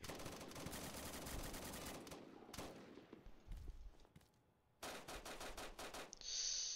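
Rapid bursts of SCAR rifle fire in a Roblox shooter match, loud and dense, broken by a short lull before another hard volley and a closing high-pitched whine.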